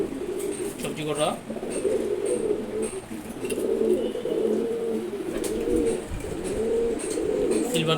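Pigeons in a loft coo in repeated low, throaty murmurs that overlap throughout, with someone talking over them.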